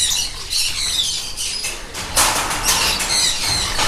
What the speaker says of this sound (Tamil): ஸோ நிறைய பேர்ட்ஸ் இருக்குங்க.